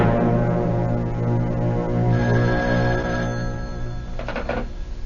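A telephone rings in a quiet indoor room, its ringing tone repeating steadily over a low background hum, fairly near and alone with no voices.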